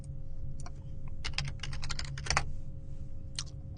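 Typing on a computer keyboard, a short burst of quick irregular keystrokes close by, clustered in the middle with a few scattered taps at the ends, over a low steady hum.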